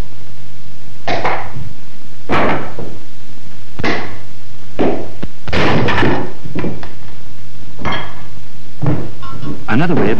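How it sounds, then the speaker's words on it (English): Traditional Shotokan karate blows breaking one-inch wooden boards: a series of loud, sharp thuds and cracks at irregular intervals, close and punchy, with a voice at times between them. "breaking 3 1-inch boards with the fist or feet, or cracking 10 pieces of slate with one blow"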